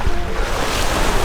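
Sea water sloshing and splashing around the legs of someone wading ashore from a speedboat in Barbuda, with steady surf and wind rumble filling the clip close to the microphone.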